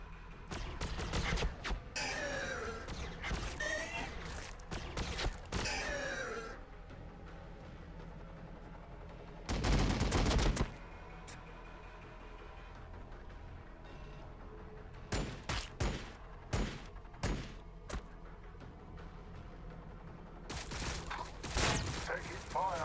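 Bursts of gunfire crackle from the Warhammer 40K Battlesector strategy game: clustered volleys early, a dense loud burst near the middle, then scattered shots and a final burst over low battle ambience, with someone talking.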